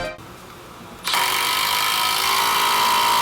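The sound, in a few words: Milwaukee 12v impact driver driving 3-inch screws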